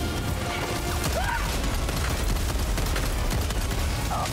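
Sustained gunfire in the co-op shooter Helldivers 2, rapid dense shots and crackling bursts layered over a constant loud battle din, with no clear pauses.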